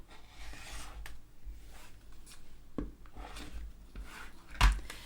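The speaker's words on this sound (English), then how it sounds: "now I'm going to trim up the right side and along the top" Rotary cutter trimming the right side and top of a quilt block's half square triangle fabric, heard as soft scraping rasps with a few sharper cutting strokes, close and fairly quiet with no talking.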